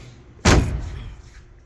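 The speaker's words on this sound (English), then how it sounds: "So now when I close the door," A handyman's work van door swinging shut, one loud close slam with a heavy thud that rings briefly and fades, preceded by faint quiet.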